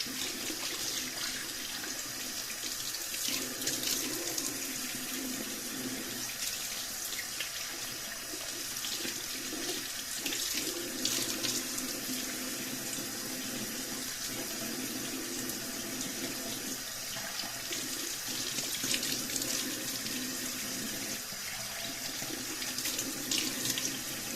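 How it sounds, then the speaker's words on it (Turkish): Plenty of tap water runs into a sink while a face is washed, a steady close splashing flow with shifting spatters for the whole stretch. "Ve yine bol suyla yıkıyorum."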